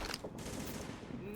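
Gunfire in the video game The Division, set in New York City: a short, dense burst of loud rapid shots with no pause.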